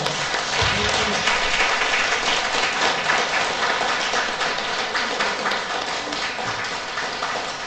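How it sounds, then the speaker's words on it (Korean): Applause from a Catholic parish congregation during a sermon, a sustained, dense clapping from many people at moderate volume, steady from start to finish with no speech. "여러분 모두를 위해서 박수 한번 치세요"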